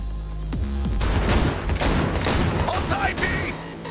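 Rapid bursts of gunfire fill a Cyberpunk 2077 car chase, loud and close, with overlapping shots and crashes while voices shout over the shooting.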